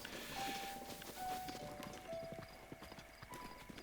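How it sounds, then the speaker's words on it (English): Horse hooves clip-clop in a steady walking rhythm in Zelda: Breath of the Wild, fairly close and clear, with a faint whinny-like tone and light ambient game sounds underneath. "Chasing that horse."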